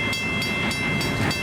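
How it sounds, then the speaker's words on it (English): A steam locomotive on the Everett Railroad works hard while pushing a train uphill toward Roaring Springs, loud and close, with rhythmic exhaust chuffs over a heavy rumble. "Turn up your speakers for that stack talk."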